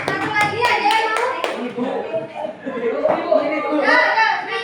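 Children clapping their hands in a classroom, a burst of quick claps at the start that fades into lively chatter and kids' voices over the rest.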